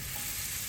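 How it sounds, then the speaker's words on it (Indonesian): Beef sautéing in a little oil in a non-stick wok gives a steady, close sizzle and frying hiss, continuous and even throughout with no talking. "Terus daging sapi yang tadi kita tumis aja pakai sedikit minyak."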